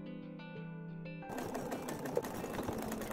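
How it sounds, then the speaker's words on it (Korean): A sewing machine stitches the closed opening of a fabric tote bag about 1 mm from the edge. A steady, close mechanical whir runs continuously after a brief hum, with no talk. "저는 1mm 간격으로 박음질 해주었어요"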